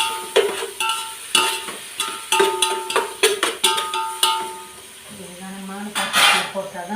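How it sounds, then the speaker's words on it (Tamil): Ginger garlic paste sautés in a pan for chicken biryani, with a spoon repeatedly clinking and scraping against the metal over a soft sizzle. A voice is heard briefly near the end. "இஞ்சி பூண்டு பேஸ்ட் இதையும் போட்டுட்டு இது கொஞ்சம் வதக்கி விட்டுடலாம்."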